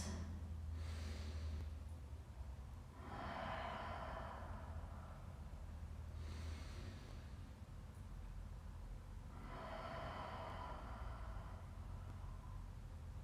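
Slow, deep breaths taken during a yoga session, soft airy inhales and exhales in a steady rhythm of about four long breaths over a quiet hiss, with no talking.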